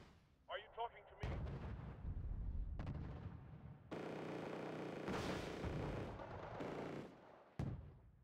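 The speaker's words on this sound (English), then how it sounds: "it's a Cobra firing, I understand." A Cobra attack helicopter fires in the video game Wargame: Red Dragon, giving heavy booming bursts and a sustained rumbling barrage with a few sharp cracks, quiet and distant in the mix.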